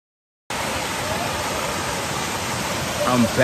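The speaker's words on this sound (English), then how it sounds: "So there's even a bigger waterfall than this one." A waterfall roars as a dense, steady broadband rush of falling water that starts abruptly and holds at an even, fairly loud level, with a faint voice entering near the end.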